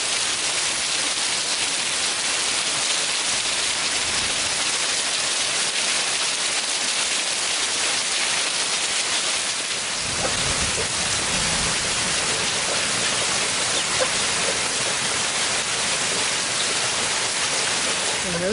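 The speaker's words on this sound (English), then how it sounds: "I'm so grateful for this rain." Steady rain pours down over a garden, a dense continuous hiss of drops on leaves and surfaces, with a faint voice talking underneath partway through.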